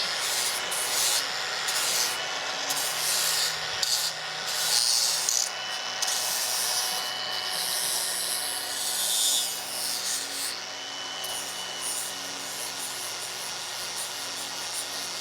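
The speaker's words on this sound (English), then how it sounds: "Let's clean these up with the flap disc." A flap disc grinding and cleaning up metal on a Torana car differential, a steady continuous abrasive rasp and hiss held close and loud throughout, with brief swells as the disc bites, and no talking.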